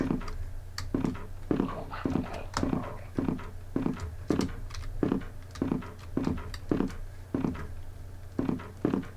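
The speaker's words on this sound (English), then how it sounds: "you can definitely hear that dog in the background" A dog barks in a first-person remake of the Resident Evil 1 video game, a steady series of short, evenly spaced barks repeating every half second or so at moderate loudness.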